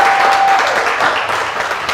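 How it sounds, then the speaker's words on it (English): Dense, loud applause from a crowd, continuous throughout with no pauses. "Give a round of applause. And another round of applause for yourselves."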